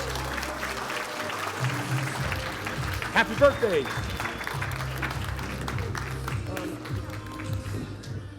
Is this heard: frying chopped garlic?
no